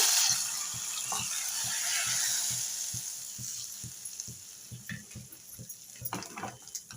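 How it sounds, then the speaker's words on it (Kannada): Hot oil tempering with curry leaves sizzles steadily as it is poured into fish sambar, loud at first and then settling into a softer crackle, with faint knocking clicks throughout. "ಇವಾಗ ಒಗ್ಗರಣೆಯನ್ನು ಸಾರಿಗೆ ಹಾಕೊಳ್ಳೋಣ"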